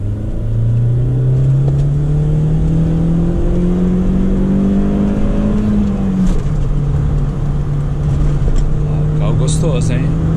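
A 1995 Audi A4 with a manual gearbox drones steadily on a test drive, its engine note climbing smoothly, dropping abruptly around a gear change, then settling into a constant hum inside the cabin.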